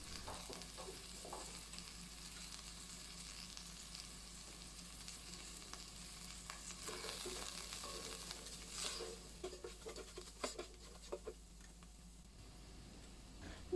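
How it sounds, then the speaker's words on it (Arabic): Spices, black pepper and salt being stirred together as they fry in a pot for Saudi-style chicken kabsa, a soft steady sizzle with quiet scraping of the spoon, faint and close, no talking. "رح نحرك هاي كل المكونات مع بعض."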